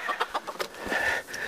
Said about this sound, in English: This is the chicken coop.